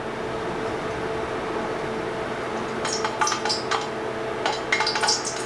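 Crackling, spitting sizzle of water hitting hot oil for frying chicken, bursting in two loud sharp flurries over a steady low background hiss.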